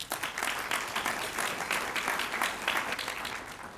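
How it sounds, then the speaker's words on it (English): An audience at an urban design awards ceremony applauds itself, a full, continuous round of clapping from a roomful of people that holds steady for several seconds. "So please give yourselves all a round of applause"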